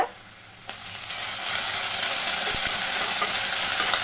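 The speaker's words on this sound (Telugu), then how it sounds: "అల్లం వెల్లుల్లి పేస్ట్ కూడా పచ్చివాసన పోయేంత వరకు ఫ్రై చేసుకోవాలండి" Ginger garlic paste frying with onion in a pan for mutton pulusu curry, a steady loud sizzle that swells after a soft start and carries on with faint stirring scrapes, no voices.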